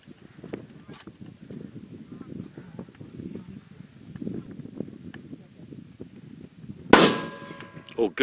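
A single sharp gunshot cracks out loud near the end, fired at a deer during a hunt, breaking a long stretch of low outdoor rumble and rustling; a voice is heard faintly before the shot.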